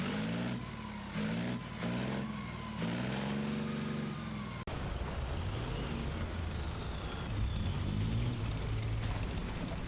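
A steady, muffled vehicle engine in the video game War Thunder rumbles continuously, with a sharp cut midway after which the tone turns rougher and noisier.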